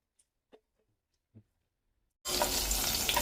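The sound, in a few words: tempering of garlic and green chillies sautéing on low flame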